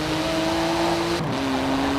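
A sports car with a 3.8-litre twin-turbo flat-six engine holds a steady high drone in Forza Horizon 4, with a brief shift in pitch partway through.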